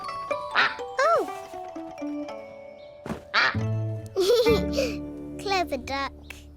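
Cartoon duck quacking in a children's farm-animal show, several bright, squeaky quacks spread through the scene, mixed with a voice and chiming music.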